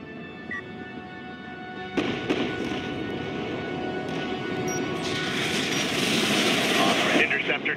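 Bomber launching in the real-time strategy game Homeworld: Deserts of Kharak, a swelling roar of engines and rumbling battle noise that builds steadily and grows louder toward the end, with faint radio-style voice chatter mixed in.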